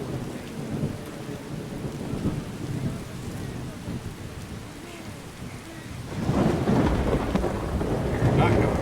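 Thunder rolls through a rainstorm in the Skyrim video game, low rumbling over steady rain that swells louder in the final seconds, with no talking.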